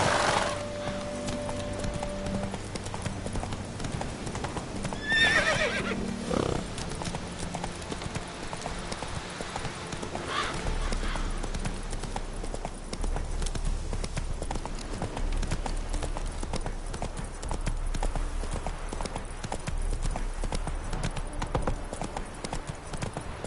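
Horse hooves gallop in a fast, steady clip-clop rhythm through The Witcher 3, close and continuous over a bed of game ambience for the whole stretch.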